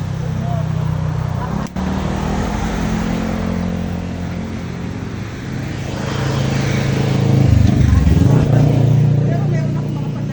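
ADV and NMAX motorcycles ride along a road near Nagcarlan in Quezon, their engines droning steadily and swelling into a louder, closer rev near the end. People talk over the engine noise.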